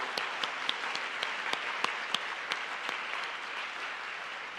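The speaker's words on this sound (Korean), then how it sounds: "다시 한번 우리 박수 한번 부탁할까요?" Congregation applauding at a church Sunday school graduation service, a steady wash of clapping from many hands with a few sharper nearby claps standing out, no voices.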